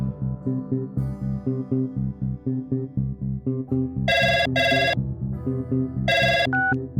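A telephone ring-back tone pulses in bursts on an outgoing call, with a music track playing underneath throughout, loud and close.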